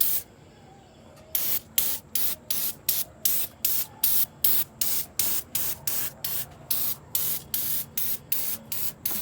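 Aerosol product sprayed over the engine bay and firewall of a 1968 Ford Mustang, a quiet start followed by a close, steady rhythm of roughly a dozen short hissing bursts with brief gaps between them.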